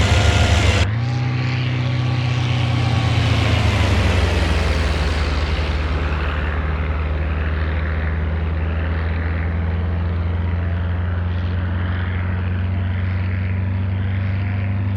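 A P-39 Airacobra's propeller engine drones steadily in flight in the IL-2 Sturmovik: Battle of Stalingrad game, a loud continuous roar with a low harmonic hum that swells at the start, then settles into an even tone.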